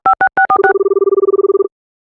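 A telephone keypad dials a call, five quick separate beeps followed by a rapid even string of short pulsed tones lasting about a second, loud and close, then silence.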